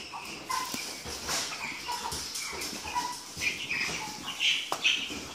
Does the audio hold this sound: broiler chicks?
yes